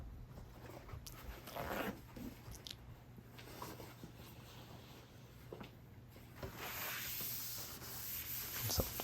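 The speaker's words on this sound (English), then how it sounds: "So just wiping off the oil." Cloth rubbing across an oiled wooden cutting board, soft and quiet, with a steady scuffing texture that grows brighter and fuller toward the end.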